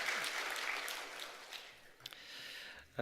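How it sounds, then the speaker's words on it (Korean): A church congregation applauds steadily during a worship service, the clapping gradually thinning and fading out, with a brief soft sound at the very end. "박수로 환영하겠습니다."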